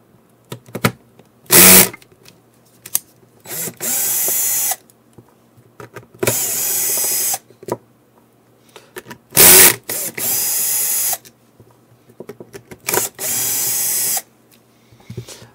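An electric screwdriver removes four screws from an HME wireless headset base station, bursts of high whirring repeating in short runs with quiet gaps and small handling clicks between, close and alone.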